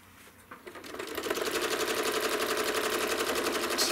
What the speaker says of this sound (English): I'm going to stitch 1, 2, 3 curves.